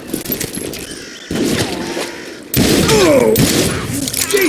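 Gunfire bursts and heavy thuds ring out in the Western shooter Call of Juarez Gunslinger, with loud booming impacts and a short exclaimed voice among the shots.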